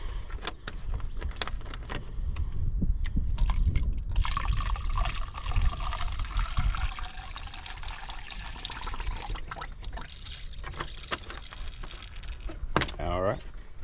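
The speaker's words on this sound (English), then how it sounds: "we're just going to get a funnel, and we're just going to fill up the coolant system" Coolant being poured through a funnel into a car's cooling system, a steady close trickle and gurgle of liquid lasting several seconds, with some rustling and handling noise around it.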